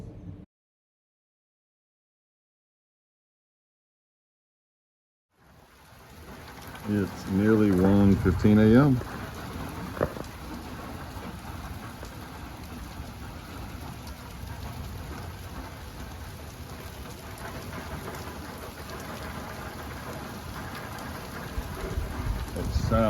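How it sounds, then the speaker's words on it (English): After several seconds of silence, heavy late-night rain in Leakey, Texas pours down in a thick, steady roar, with a loud rumbling surge of thunder early on and a voice speaking briefly over the downpour. "this footage of the incredibly rehydrating rains that we got in Leakey on Tuesday night, Earth Day night, 2025"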